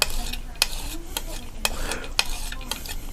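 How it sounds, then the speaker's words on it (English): A brush or palette knife stirs and mixes paint for grayscale painting, a continuous wet swishing broken by regular sharp taps against the container, close and clear. "We'll just keep stirring it up there. And keep mixing it."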